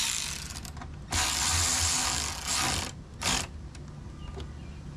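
A ratchet with a 7mm socket tightens a front door handle bolt on a 2005 Chevrolet Avalanche. Several quick bursts of close clicking come in short runs with brief pauses between them.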